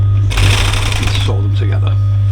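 A sewing machine stitches cushion border pieces together for diamond-stitched campervan cushions with piping, a steady busy whir running throughout the clip over a low constant hum, with no talking.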